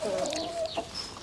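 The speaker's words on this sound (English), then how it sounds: "Look at the hen, she's trying to stop the fight" A backyard hen clucks during a rooster fight on an urban homestead, giving one short, close, drawn-out cluck followed by a few quick softer notes.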